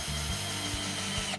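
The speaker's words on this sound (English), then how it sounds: "run the screw in." Up close, a 20V Switchdriver cordless drill/driver runs a screw into a door frame, a continuous motor drone punctuated by periodic low thumps and clicks as the screw seats, ending abruptly.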